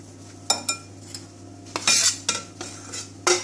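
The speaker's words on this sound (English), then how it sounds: "So now we are going to add all our dry ingredients in the milk and stir it." Flour and cocoa powder being stirred into milk in a bowl: a handful of short, close scraping and clinking strokes of a utensil against the bowl, separated by brief pauses.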